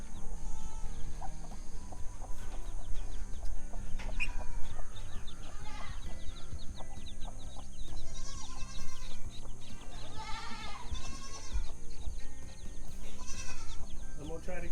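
Chickens and ducks with their babies on a homestead, fowl calling repeatedly alongside other farm animals in a busy outdoor barnyard, with a person talking nearby.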